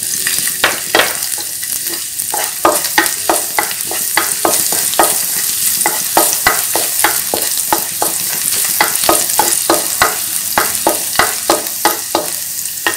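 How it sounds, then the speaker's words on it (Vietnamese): Vegetables with garlic and onion stir-fried in a pan for shaking beef, a loud constant sizzle punctuated by quick, regular scraping and clanking strokes of a spatula, close and with no talk. "bây giờ thì mình sẽ xào rau củ trước nha"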